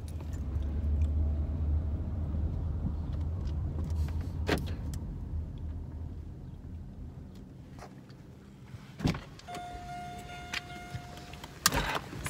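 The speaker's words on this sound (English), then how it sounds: "it's hard to hold a camera and drive." Steady low road rumble from inside a moving car, continuous throughout, with a few clicks and thumps and a brief whine near the end; no talking.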